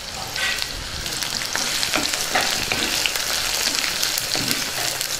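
Chopped onion and garlic fry in hot oil with tempering spices for a traditional tomato curry, a dense close sizzle with scraping stirs and spatters throughout, no talk.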